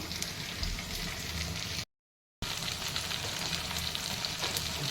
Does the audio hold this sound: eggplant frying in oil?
yes